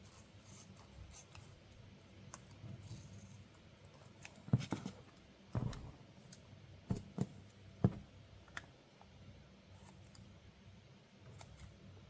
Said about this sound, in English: You can carefully trim the edges because you have to wrap it over the side.